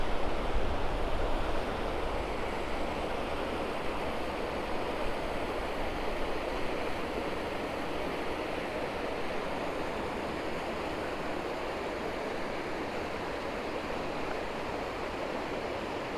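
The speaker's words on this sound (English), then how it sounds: "The speed of the water there." Fast-flowing river water rushing past at Sligachan on the Isle of Skye, a steady, loud broadband roar that holds constant throughout with no talk over it.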